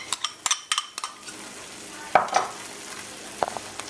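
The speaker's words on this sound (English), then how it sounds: "Give it a stir to make sure all that curry goodness goes all between" Curry shrimp with pumpkin being stirred in a pot, a few quick clinks and scrapes of the spoon in bursts over a faint simmering background.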